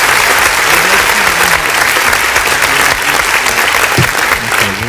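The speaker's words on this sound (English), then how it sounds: "Get an applause for that." Loud, continuous applause from a comedy radio show audience, with a voice briefly heard over the clapping.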